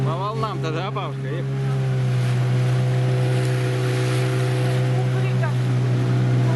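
A motorboat on the Oka river drones at a steady, loud pitch throughout, with water and wind noise around it and a few brief voices early on.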